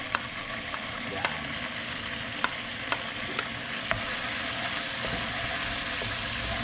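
Garlic sautéing in leftover frying oil from beef steak, a steady close sizzle with light clicks of a utensil stirring in the pan, no one talking.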